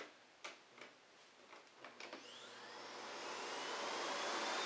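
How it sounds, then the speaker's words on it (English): Miele vacuum cleaner set to auto mode: a few clicks, then the motor spins up with a rising whine into a steady, smooth whoosh that grows louder and holds, close by. "So I'll leave it in auto mode so you can hear just the vacuum"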